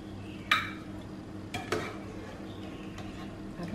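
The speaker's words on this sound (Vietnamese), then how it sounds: "Và mình cũng múc nó ra đĩa để cho các bạn xem luôn nha." Cooked kohlrabi and pork belly ladled from a pot onto a plate, with a few light clinks of a metal ladle against cookware spaced over a quiet kitchen background.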